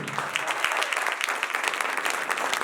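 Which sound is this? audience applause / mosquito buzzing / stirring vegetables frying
audience applause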